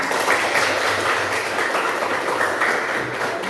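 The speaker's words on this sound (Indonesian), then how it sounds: "Tepuk tangan semuanya." A classroom of students claps together at the end of a lesson in an Indonesian teacher-training session, a dense, steady wash of applause that stays loud and even throughout with no talking.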